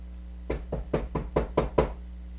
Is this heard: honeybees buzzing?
no